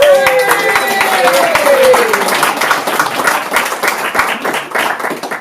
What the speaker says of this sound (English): let's all put our hands together and give a huge round of applause to Gareth